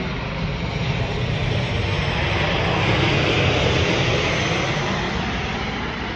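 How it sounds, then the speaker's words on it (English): A Southwest airplane passes overhead with a steady, broad engine roar that holds loud and unbroken for several seconds. "I'm trying to make a point in this motherfucking airplane"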